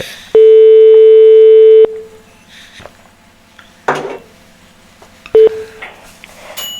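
Telephone dialing for a radio call-in line, with a long sustained tone, clicks and handling knocks, then a short second beep and scattered rattles, close and loud, no speech.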